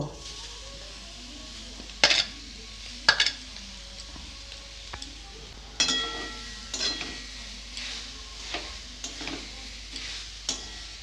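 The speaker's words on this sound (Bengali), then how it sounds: "আমি এখানে 3টা নারকেল নিয়েছি, এই কড়ার মধ্যে দিয়ে দিব।" Grated coconut from three coconuts goes into a wok, followed by sharp metallic scrapes and clinks of a spatula against the pan over a faint low sizzle, coming in irregular close strokes with no talk.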